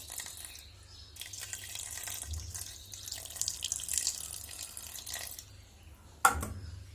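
Tamarind water poured into a pan for Kerala-style challa fish curry, a steady close splashing trickle lasting several seconds, ending in a brief sharper splash, with no talking.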